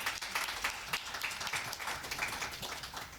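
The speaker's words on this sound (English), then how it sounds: "Can we have a round of applause" An audience at a conference applauds with dense, steady clapping that stays even in level, fairly faint and heard from a distance, with no voices.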